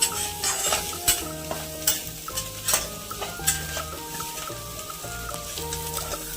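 Prawns frying in a pan at a village cooking setup, steady hot sizzle broken by repeated sharp scraping and clanking strokes of a utensil stirring them, close and fairly loud with no talking.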